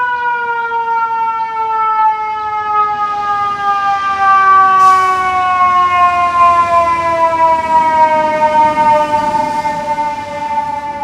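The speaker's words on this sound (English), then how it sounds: "Always with sirens in New York City." A fire truck siren wails loud and close on a Brooklyn street in New York City, its steady, layered tone sliding slowly downward and running without pause, with no talking.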